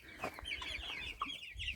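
A chicken clucks softly in short, repeated bursts, close by and fairly quiet, with no talking.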